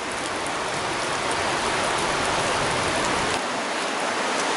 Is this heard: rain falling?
yes